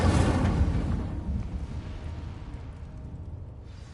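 An Incendio fire spell cast in Hogwarts Legacy erupts as a loud whooshing burst of flame, then fades into a decaying low roar over several seconds.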